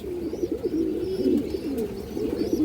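A pigeon gives a continuous series of low, rolling coos, close by and fairly steady, with no talking.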